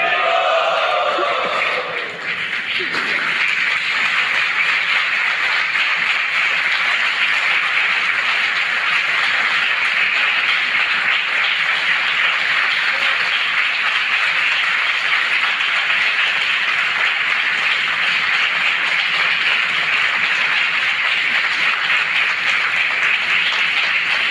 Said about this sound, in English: So this thunderous clapping has already said all of it, right?